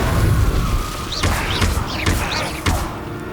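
Repeated fire spell casts in the Hogwarts Legacy video game, a string of bright whooshing bursts with sharp impacts over a dense, continuous game background.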